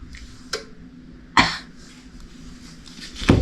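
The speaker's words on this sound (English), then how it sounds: "I felt a cough coming on." Three short, harsh coughs spaced about a second apart, close to the microphone, with quiet background in between.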